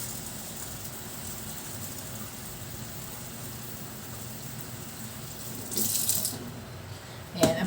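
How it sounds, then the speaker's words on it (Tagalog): Rice is rinsed in water before cooking in a home kitchen, a low steady sloshing and wash over faint background hum, ending in a brief louder splash and pour near the close. "banlawan lang natin yung ating bigas para makapagsaing na tayo."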